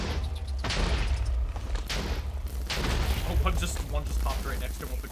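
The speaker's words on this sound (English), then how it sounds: "There's another massive explosion." Loud booming blasts from a Minecraft 1.20.1 mob battle between Magispeller and Ignis, with a creeper exploding nearby; repeated heavy bursts and rumbling impacts fill the stretch, with a voice talking over the game sounds.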